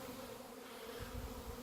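A low, steady buzzing of bees drones throughout, with a slightly louder rumble near the end.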